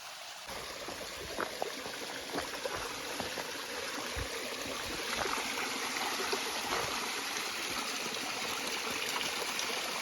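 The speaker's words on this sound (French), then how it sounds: "Magnifique source d'eau. Très contente de voir ça." Water from a mountain spring flows steadily along a mountain trail, a continuous close trickling and splashing rush that stays even throughout with no speech.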